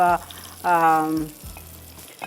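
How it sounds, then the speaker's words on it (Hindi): Spicy hoisin chicken fries in a chef's pan, with two loud bursts of sizzling and a fainter third, separated by quieter gaps. "ये कितने ज़बरदस्त से बर्तन में मैं फ्राई कर रही हूँ"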